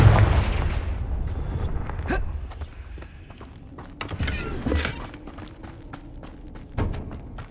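A Confringo blast spell in the Hogwarts Legacy video game, heard as several sharp booming bursts over a steady low rumble of combat, with no talking.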